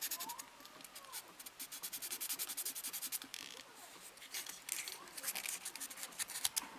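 Sanding of a small plastic model kit part, quick rhythmic scratchy rubbing strokes repeated close to the microphone, faint overall.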